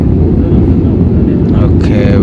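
Inside a passenger plane cabin on a flight from Bangalore to Andaman, a loud, constant low engine roar fills the space, with a brief burst of higher noise near the end.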